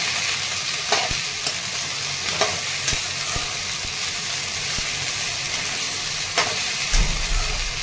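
Okra sautés in hot oil with red chili powder for dahi bhendi, a steady close sizzle broken by occasional scraping strokes of a spoon as it is stirred.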